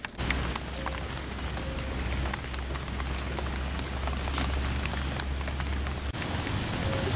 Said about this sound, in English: It's pretty cold and rainy out here,